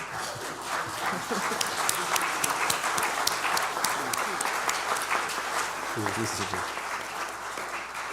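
Applause from a standing congregation honoring two reverends at a New Year's Eve service, steady dense clapping throughout with crowd murmur beneath.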